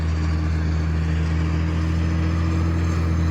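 A GMD 700 GII HP disc mower with spinning discs cuts through a corn field, giving a steady, loud, low-pitched engine drone that holds evenly throughout with no voices.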